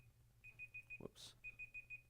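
A stopwatch timer beeps in rapid, evenly spaced chirps, two bursts of four separated by a brief thump and hiss, fairly quiet and close.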